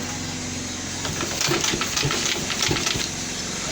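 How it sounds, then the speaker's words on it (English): A sewing machine runs over the taped edge of a half shoe, giving a rapid mechanical stitching rattle over a steady motor hum that grows busier in the middle. "So we are going to sew it, put into machine and sew."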